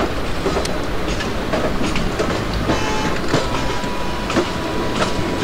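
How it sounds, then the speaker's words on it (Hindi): A simulated Bhusaval–Katni passenger train pulls out of Raver station in the Open Rails game, with a continuous rumble and rhythmic clickety-clack of wheels over rail joints throughout, close and steady. "And Bhusawal Katni passenger departing from Raver station."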